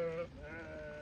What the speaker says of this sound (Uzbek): mana qo'ylar yaylovdan kelib